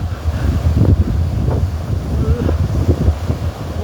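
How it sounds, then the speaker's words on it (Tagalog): Strong, steady sea wind roars across an open microphone on a net-fishing trip, with a low rumble of surf beneath it throughout. "Lakas ng hangin pa naman."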